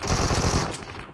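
Machine gun fire in a shooter video game, one loud, rapid continuous burst at close range that tails off slightly at the end, with no voices.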